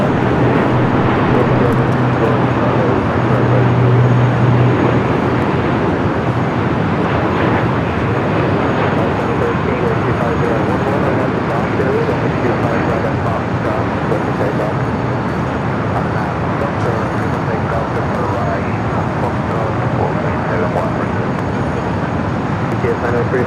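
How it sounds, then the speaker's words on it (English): A UPS Boeing 767-300ER builds a broad, continuous engine roar while taking off from the south side at LAX, heard at a distance with voices talking over it. "We do have that UPS 767 at 300ER going to be taken off here on the south side momentarily."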